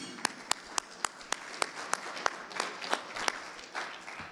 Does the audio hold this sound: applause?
yes